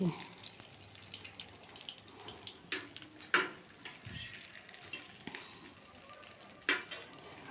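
Pieces of katla fish sizzle in hot oil in a pan, a steady close crackle with occasional sharp pops and faint clinks of a utensil, no voices.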